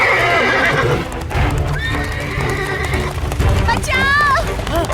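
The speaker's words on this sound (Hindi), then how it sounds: "घोड़ा बेकाबू हो गया" Runaway horse neighing loudly with shrill rising whinnies over galloping hoofbeats, mixed with frantic shouting voices and crowd noise throughout.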